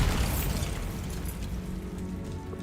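A Bombarda blasting spell goes off in Hogwarts Legacy, a dull booming burst up front that rolls into a fading rumbling tail, moderately quiet overall.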